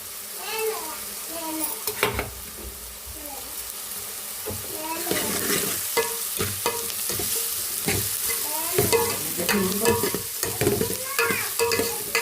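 Masala with ginger garlic paste and coconut fries in oil as it is stirred, with a constant close sizzle and hiss under repeated scraping strokes. Brief bits of talk and kitchen clatter come through now and then.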